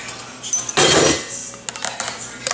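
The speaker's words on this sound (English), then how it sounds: "I love the Ninja because you can literally just take the lid off" A lid comes off a Ninja blender cup with a short plastic clatter and scrape, followed by a few smaller clicks and taps close by.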